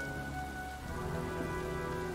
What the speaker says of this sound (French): Je crois qu'un orage se prépare. Ça fait plusieurs jours qu'il pleut.